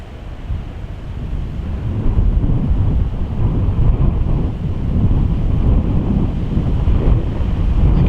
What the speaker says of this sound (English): Quite a bit of wind off to the right, isn't there?